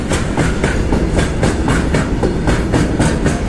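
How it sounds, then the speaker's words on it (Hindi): Indian train wheels clatter over railway track near Sevoke station, a loud, steady rhythmic clickety-clack repeating roughly every half second with no voices. "ये ट्रैक साउंड भी कमाल का लगता है ना यार"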